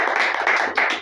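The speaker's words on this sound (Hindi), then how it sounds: "तो एक बार अपने लिए तालियां बजा लीजिए" An audience at a Hindi poetry event honouring teacher-poets claps together in a dense, steady burst of applause, loud and close throughout.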